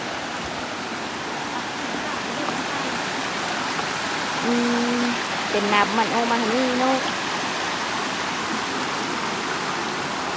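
A forest waterfall roars steadily with a dense, even rush of falling water throughout, while people talk briefly over it partway through.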